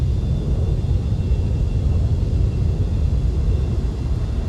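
An aircraft takes off at an airshow, a steady deep engine rumble and roar holding constant and loud throughout, with no voices over it.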